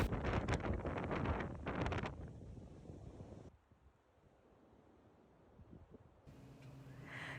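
Gusty storm wind roars against the microphone on a Peak District farm in December, loud at first, then easing to a quieter rush before picking up again.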